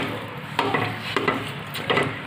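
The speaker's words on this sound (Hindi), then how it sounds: "अब मैं इसके अंदर चीनी को अच्छी तरह से मिक्स कर" Sugar being stirred into a wheat flour and gram flour halwa in a pan, with a soft steady sizzle and a few scraping stirring strokes repeating close by, no talking.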